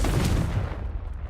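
The Confringo blasting spell cast in Hogwarts Legacy, a single loud, close explosive burst that rumbles and decays over about a second.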